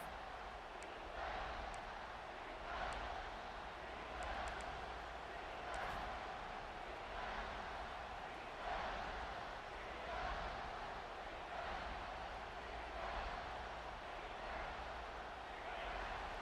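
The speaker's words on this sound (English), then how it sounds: "And the crowd coming to life here" A stadium crowd at an LSU versus Alabama football game in a video game roars as a steady, faint wash of cheering, swelling gently in waves.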